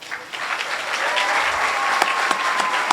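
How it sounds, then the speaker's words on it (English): Audience applause at a 2023 Junior Police Academy graduation, honoring the graduating team: steady, sustained clapping from a crowd in a hall, filling the whole stretch at an even level. "But I do want you to stand up now to take your applause for it."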